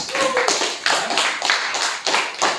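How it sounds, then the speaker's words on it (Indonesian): A classroom applauds a student group in a short round of clapping, several distinct bursts of hand claps in an uneven rhythm, close and fairly clear. "tepuk tangan dulu untuk kelompok 5."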